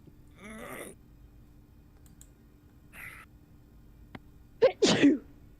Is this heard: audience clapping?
no